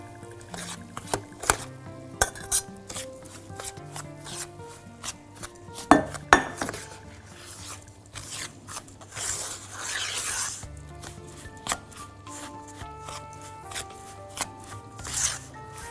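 Crushed biscuits and butter being mixed in a baked-cheesecake tin to form the base. Uneven, close clinks, scrapes and taps of a utensil against the pan and the crumbs come in irregular bursts, with no voices.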